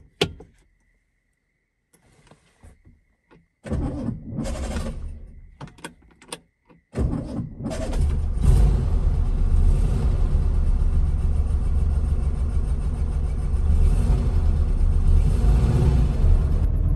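A Porsche 356B, an original garage find, cranks and fires up after some quiet clicks and door sounds, then settles into a steady, close engine rumble as it pulls away.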